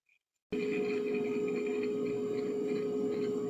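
Rotor of a Rado Diastar Rattrapante split-second chronograph, powered by a Valjoux 7750 movement with a Geneva-striped rotor, gives a steady close whir. It starts abruptly after a brief silence and holds evenly to the end.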